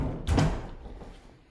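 A pantry door in a for-sale house in Farmersville, Texas swings open with a single dull thump and brief mechanical rattle, close by, then fading into quiet room tone.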